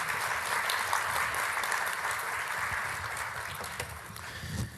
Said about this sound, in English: So that's the panel. Please give them a round of applause.